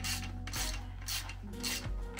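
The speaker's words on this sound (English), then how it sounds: "flick our wrench here and tighten this up" A wrench tightens a bolt on a Disney Frozen kid's bike, giving repeated raspy ratcheting strokes in a steady back-and-forth rhythm, close and fairly loud with no talking.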